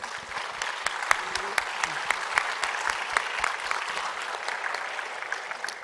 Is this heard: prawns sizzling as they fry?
no